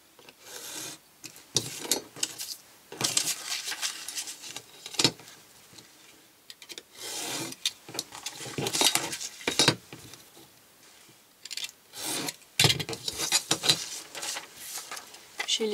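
Paper being cut with scissors for a spring scrapbook folio, giving crisp bursts of snipping and rasping strokes in irregular clusters separated by short pauses, close and fairly loud.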